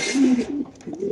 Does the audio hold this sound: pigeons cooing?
yes